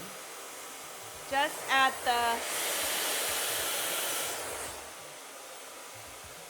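A hair dryer blowing hot air over a bend in styled hair, a steady whooshing roar lasting a couple of seconds after a few short beeps, close and moderate, with a brief spoken snippet.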